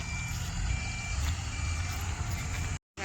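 Trucks hauling soil at a bypass road construction site rumble loudly and steadily nearby, with a reversing beeper chirping in regular intervals over the engine noise.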